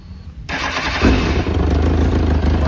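A 2007 Kawasaki ZX10R motorcycle cranks and fires up, the starter whir giving way to a loud, steady engine idle close by.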